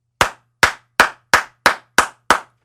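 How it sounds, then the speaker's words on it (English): Seven cupped hand claps ring out alone, each a sharp hollow pop, spaced evenly about a third of a second apart at close range. "You do a cup clap."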